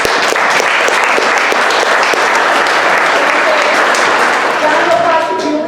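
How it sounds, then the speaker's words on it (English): An audience at the Red Wing Care Clinic's 10th-anniversary community program gives sustained, dense applause that stays steady and full for several seconds before easing slightly at the end. "Applause to all of these individuals that have kept it going"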